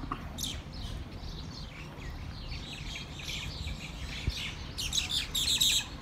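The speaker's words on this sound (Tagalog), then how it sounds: "Ang dami mga ibon." Birds chirp and tweet on and off over steady outdoor ambience in a park at Yambo Lake, with a brighter cluster of calls near the end.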